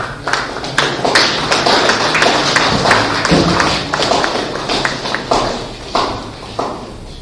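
A seminar audience in a hall applauds in honor of a priest, steady loud clapping from many hands that continues for several seconds with sharper individual claps near the end.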